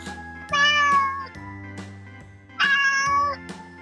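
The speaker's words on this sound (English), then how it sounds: "C for cat." A cat meows twice, each cry drawn out and clear, separated by a pause, over a soft sustained musical backing.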